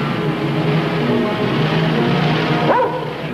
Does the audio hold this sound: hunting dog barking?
yes